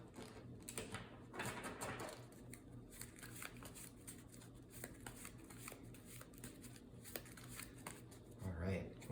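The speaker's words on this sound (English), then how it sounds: "And then we're gonna shuffle up our deck over here." A deck of game cards being shuffled, rustles and riffles through most of the stretch, a busy papery flutter with a brief louder burst near the end.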